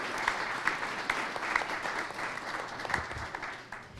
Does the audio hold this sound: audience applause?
yes